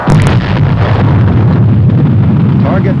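A Nike Hercules missile launches at an Army test site with a loud, sustained broadband roar that starts abruptly and holds steady throughout, with no break.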